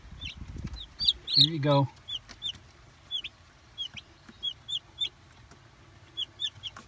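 Several chickens cluck softly in a chicken tractor, a mobile coop, giving short repeated clucks scattered across the clip. Someone speaks briefly early on.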